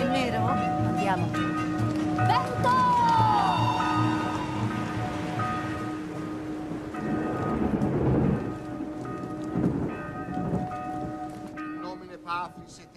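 A thunderstorm with steady rain and rolling thunder, the rumble swelling in the middle, while people talk and a voice intones a Latin reading over the storm.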